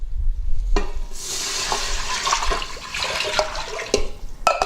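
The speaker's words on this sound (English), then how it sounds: "I'm going to pour in 4 cups of water," Water pours steadily into an Instant Pot with a rushing, splashing wash, preceded by a few clinks and ending with a couple of sharp knocks.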